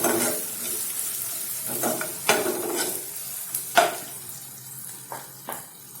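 Ginger and garlic frying in a pan for a chana dal and spinach dish, a continuous sizzle with intermittent scraping stirs and light clanks of a utensil against the pan.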